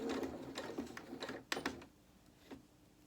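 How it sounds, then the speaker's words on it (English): A sewing machine stitches a short seam on a doll's reversible winter cape, fairly quiet bursts of rapid whirring with brief pauses, no talking. "let's just sew the other one"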